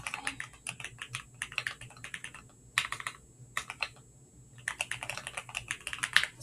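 Close, crisp keystrokes on a computer keyboard as a description is typed into a payment request form, coming in quick bursts separated by short pauses, with no talking.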